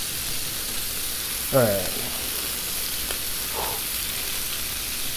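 Sausage and potatoes sizzle on a Blackstone griddle with a steady bright hiss throughout, while someone speaks briefly over it.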